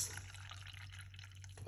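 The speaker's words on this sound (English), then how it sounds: "so we just pour it out just like this" Thyme tea pouring out into cups, a steady low liquid trickle with faint dripping running through the short stretch, close and moderately quiet.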